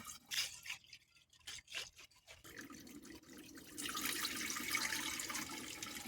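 Vinegar poured into a 10-litre jug while brewing kombucha: a thin stream of liquid with scattered drips at first, then a steady, fairly close splashing pour that fills the second half without any talk.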